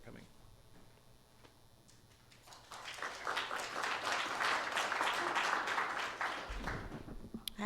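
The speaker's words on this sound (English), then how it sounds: "that's the first applause I've ever gotten in my life" Audience applause at a panel discussion swells from a quiet room into sustained, fairly distant clapping that lasts several seconds before tapering off, with faint voices underneath.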